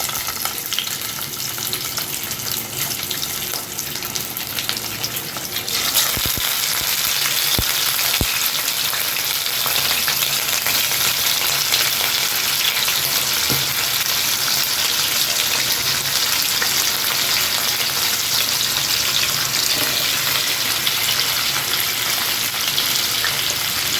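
Katla fish frying in hot oil, a loud continuous sizzle that swells as the pieces go into the pan and then holds steady, close up, with no talk.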